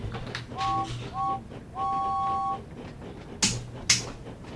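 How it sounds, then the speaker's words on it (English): A steam locomotive whistle sounds in a train simulator on the North Western Railway, giving three short clear toots, the last one held longer, over low engine rumble with a couple of sharp clanks afterward. "you have to whistle when you come into a station, or if you're running through a station"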